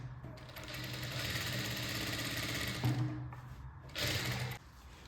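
A sewing machine stitches the fabric of a baby frock at the shoulder, a steady mechanical hum close by that briefly pauses and then resumes with a short burst.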